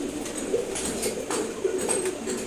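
Domestic pigeons kept for rearing coo repeatedly nearby, soft throaty calls overlapping from several birds against a light background hiss.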